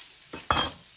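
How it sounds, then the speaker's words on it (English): Broccolini hits a hot pan with a sudden short sizzle, a brief frying burst after a softer clatter. "now I'm gonna add about half of our beautiful broccolini"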